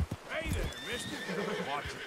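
A horse in the Red Dead Redemption 2 video game whinnies with a rising, wavering neigh over steady clip-clopping hooves, close and fairly loud.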